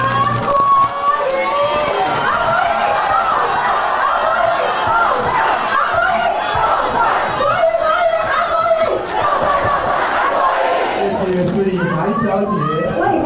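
A large crowd welcomes presidential nominee Han Kuo-yu at a party office rally in Hsinchu, producing a dense, continuous roar of voices and cheering that stays loud and steady throughout.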